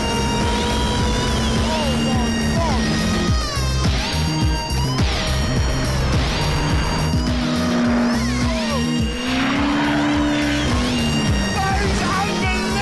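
Ariel Atom sports car accelerating hard at speed, a loud continuous engine roar with rising and falling pitch sweeps and gear changes, wind noise throughout, close and dominant.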